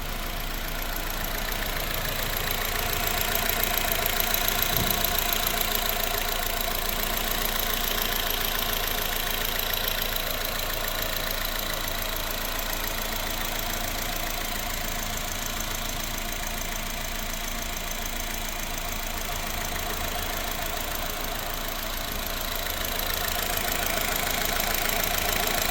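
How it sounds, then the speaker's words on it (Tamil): A Honda Mobilio i-VTEC seven-seater car engine runs at a steady idle, a continuous even hum that holds constant throughout with no voices. "இப்போ வண்டியோட இன்ஜினை ஸ்டார்ட் பண்ணி இன்ஜினோட சவுண்டு எப்படி இருக்கிறத வீடியோவில் அட்டாச் பண்ணி காட்டுறேன்"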